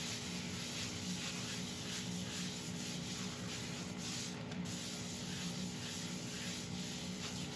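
Howard Feed and Wax rubbed by hand onto a turned elm bowl, a steady soft hissing friction that continues evenly and close throughout, with no talking.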